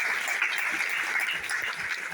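Steady applause from an audience at the Banque de France award ceremony for the best financial article, honouring Luce Perrault, a dense continuous wash of clapping with no talking over it.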